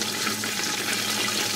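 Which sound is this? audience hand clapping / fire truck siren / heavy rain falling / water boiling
water boiling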